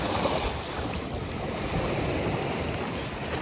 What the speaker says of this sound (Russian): Здесь, кстати, волны бахают.